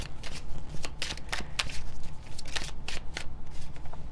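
Tarot cards are shuffled close up in a rapid, continuous riffling and flicking rhythm, papery snaps repeating for several seconds with no talk over them.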